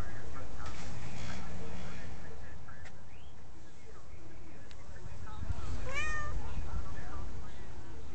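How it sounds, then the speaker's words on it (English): A cat meows outdoors in snow during an April snowstorm in Spokane, giving a couple of short, fairly close meows over a wintry background while a person talks. "What's wrong, cat?"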